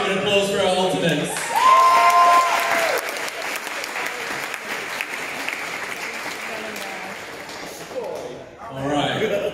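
Audience applause at a West Coast Swing Jack and Jill dance competition, a sustained loud burst of clapping with some cheers that swells early and then thins, and a voice returns at the end.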